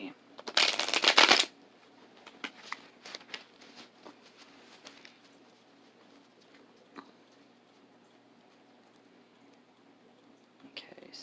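Tarot cards are shuffled in a quick, crisp riffle up close, followed by softer card handling and light taps, with a quiet voice and faint birdsong in the background.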